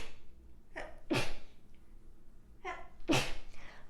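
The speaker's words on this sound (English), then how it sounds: "I had to sneeze" Two sneezes from one person, each a sharp inhale followed by a forceful burst, close and clear with quiet between.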